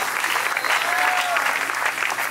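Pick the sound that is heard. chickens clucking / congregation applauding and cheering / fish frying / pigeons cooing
congregation applauding and cheering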